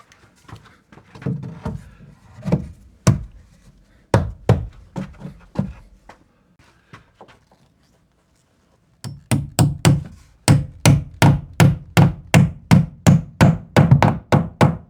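Hand hammer driving nails into wooden ceiling joist hangers on a shed frame, starting with scattered, uneven blows, then a pause, then a steady run of sharp, loud, evenly spaced strikes.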